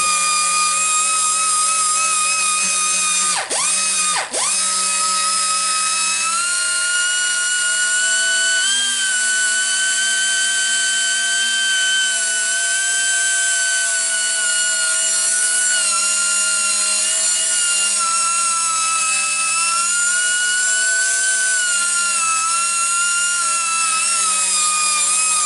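A curbed alloy wheel is worked with fine-grit sandpaper on a power tool that whines steadily at a high pitch for the whole stretch. The tool is loud and close, dips briefly near the start, and no one talks.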